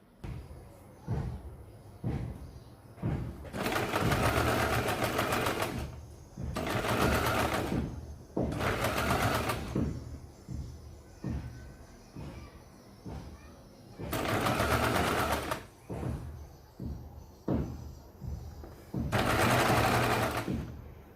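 Sewing machine stitching a straight seam on a baby circle frock, running in five loud bursts of fast mechanical whirring, with soft thumps, handling noises and a voice talking between the runs.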